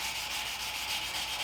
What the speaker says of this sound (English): I'm still sanding with the hard back